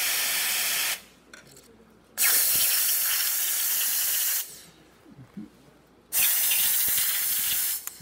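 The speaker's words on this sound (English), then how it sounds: "And now for the steamer." A Bezzera espresso machine's steam wand, newly fitted with a steam assembly, releases loud bursts of broadband hissing steam, three strong blasts broken by short quieter pauses, with no talking.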